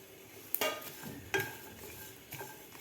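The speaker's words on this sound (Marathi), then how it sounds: "तिळ आणि खोबरंसुद्धा आपल्याला एक मिनिट भाजून घ्यायचं आहे" Sesame seeds and coconut dry-roasting in a pan over a low flame, with a faint, soft crackle and a few brief scrapes of a spatula, quiet and close.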